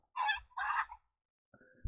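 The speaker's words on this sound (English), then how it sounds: "What is this sound coming from? It's a chicken." A chicken in the video game Stumble Guys clucks twice in quick bursts close by, followed after a pause by a fainter, shorter sound, with no talk.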